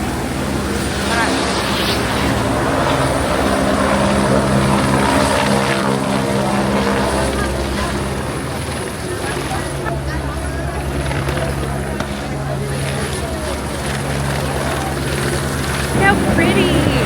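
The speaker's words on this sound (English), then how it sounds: "I think there's a helicopter going off." A helicopter flies over Rio de Janeiro, a loud steady rotor throb and engine drone lasting throughout, with wind buffeting and voices talking over the noise.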